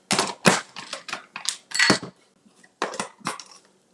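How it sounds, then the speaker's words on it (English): Parts of a mini Ninja blender being fitted together as its top goes on: a quick run of sharp plastic clicks and clatters, close up, ending in a brief pause and a few final taps. "I'm just going to put the top on here. I'm using a little mini Ninja."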